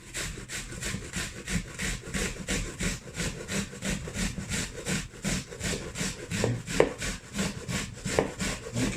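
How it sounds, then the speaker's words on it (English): A raw onion is grated on a grater for coleslaw, with rapid, rhythmic rasping strokes in a steady back-and-forth pattern, close up and continuous. "I'm going to grate it holding the root. So I'm going to grate the open end."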